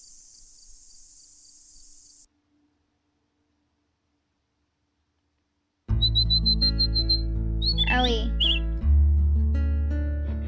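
Birds attack in the video game Nusantara: Legend of the Winged Ones with loud squawks and chirps over bright, tonal game music. A faint, high hum plays first, then comes a quiet gap before the burst, and a voice speaks over it.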